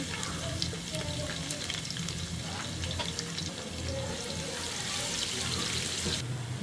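Chopped onion fries in oil with whole garam masala for pulao, giving a dense, steady sizzle and crackle that runs the whole time at close range, with a few faint clinks.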